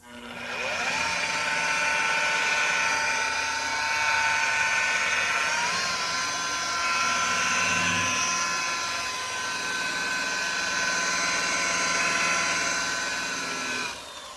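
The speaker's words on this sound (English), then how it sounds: "As you see, I'm buffing." A car paint buffer runs with a pad on the wet-sanded finish, giving a steady, loud motor whine with a tonal hum that holds for the whole stretch, its pitch shifting slightly as pressure changes.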